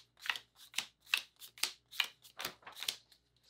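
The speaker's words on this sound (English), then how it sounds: "I shuffled this a bunch, but I'm just doing a little more" A deck of playing cards is riffle-shuffled for a board game, about eight crisp, fluttering bursts in a steady rhythm, close and alone with no talk.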